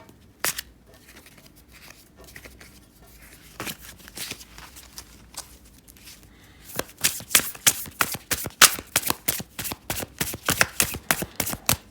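A deck of tarot cards is shuffled, first with a few scattered taps and slides, then a rapid flurry of crisp riffling snaps building loudly in the second half.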